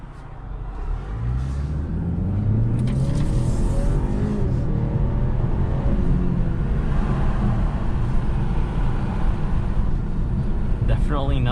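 A 2021 BMW 530i xDrive in sport mode with traction control off accelerates hard, its engine note rising steadily and loud from inside the cabin, with road and wind roar building underneath.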